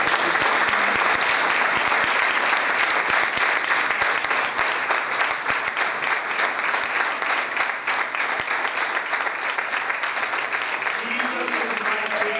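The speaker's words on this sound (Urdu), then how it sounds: "آئیے یسوع بادشاہ کے لیے زوردار تالیاں۔" A church congregation applauding loudly for Jesus at a Palm Sunday service, sustained vigorous clapping for many seconds with some voices mixed in, tapering near the end as a voice returns.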